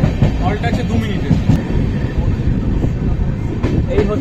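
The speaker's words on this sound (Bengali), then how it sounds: "তো কৃষ্ণনগরে ঢুকে গেছে এখন ট্রেন।" Passenger train rolling into Krishnanagar City Junction station, a steady low rumble of wagons with faint clacking throughout, loud and close, with people talking over it.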